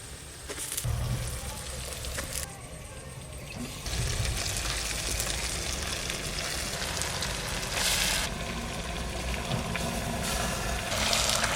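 Chicken legs sizzling in hot oil in a mud handi, a broad crackling hiss that swells louder partway through, close and steady, with faint voices in the background.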